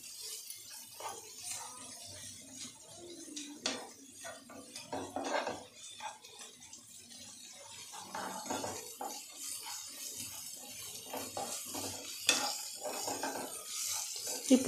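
Prawn curry fries in oil in a pan while a utensil stirs and scrapes it, a soft irregular sizzle broken by clinks and scrapes that grow busier toward the end.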